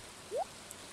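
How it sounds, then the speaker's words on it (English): Steady rain in the video game Stardew Valley, a constant soft hiss of falling drops with a brief rising chirp tone partway through, no voices. "it's raining, so we don't need to watering"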